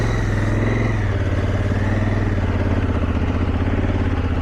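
A heavy motorcycle labors up a sandy campground hill on a dirt trail with the clutch slipped, its engine a loud, close, continuous throbbing drone that holds steady throughout.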